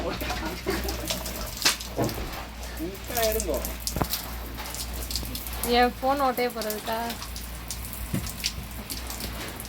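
Water splashes and patters steadily against a surface while a person talks over it.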